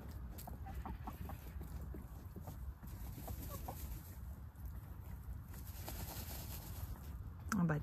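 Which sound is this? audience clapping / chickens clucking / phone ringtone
chickens clucking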